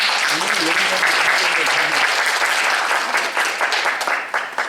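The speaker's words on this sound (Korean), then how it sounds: "여러분, 고진강 대표님을 큰 박수로 맞아주시기 바랍니다." A loud burst of dense, steady clapping from an audience at the Love Diary festival event in Seoul's Dongja Art Hall, welcoming the organisation's representative, with a voice briefly heard early on before the applause tapers slightly.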